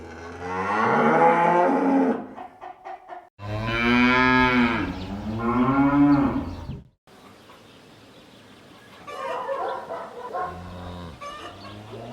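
Cows low on a farm, with several long, loud, close moos in a row and then quieter lowing under faint background noise.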